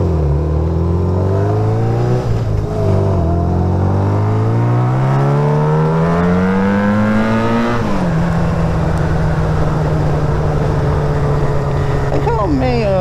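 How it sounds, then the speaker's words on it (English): A small motor on a bike-like car with a readjusted clutch revs hard, climbing steadily in pitch as it over-revs, then drops back and holds a steady drone, loud and close throughout. "I readjusted my clutch so it's where it's supposed to be now, and now I over rev the motor a lot."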